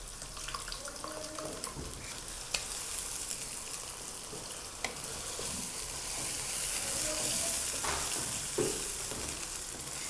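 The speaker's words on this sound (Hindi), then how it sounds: "चिकन को मसाले के साथ 2 मिनट भूनने के बाद अब हम इसमें शामिल करेंगे 4 टेबलस्पून दही" Chicken sizzling with spices in oil in a pan, fried for a couple of minutes before yogurt goes in; a steady, soft frying hiss with occasional stirring clicks, no talk.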